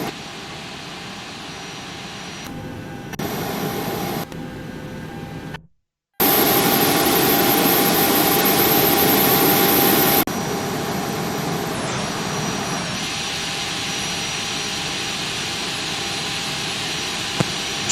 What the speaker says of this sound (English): So the engine now is increasing power,